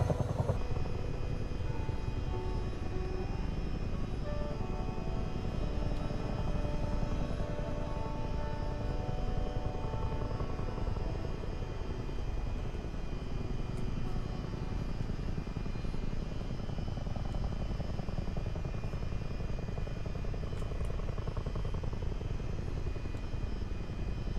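Chinook twin-rotor helicopter in Microsoft Flight Simulator 2024, flying in New Zealand near Martins Bay Aerodrome: a loud, steady rotor and turbine drone with layered engine tones that holds unbroken throughout.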